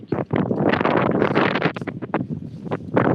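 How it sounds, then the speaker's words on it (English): Strong evening wind in Bangladesh buffets the microphone in loud, gusty rumbling bursts, filling the whole clip with roaring noise. "It's still evening and windy."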